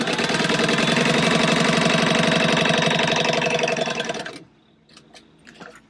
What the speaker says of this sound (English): just sewing 1/4 inch from the edge